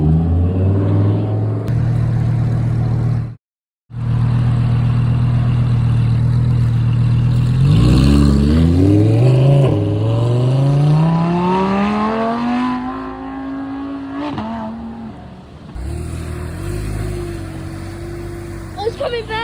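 A Porsche engine starts and revs close by, its low rumble climbing in pitch through a long rising sweep before settling into idle, with people talking over it throughout.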